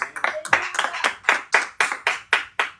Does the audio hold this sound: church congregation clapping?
yes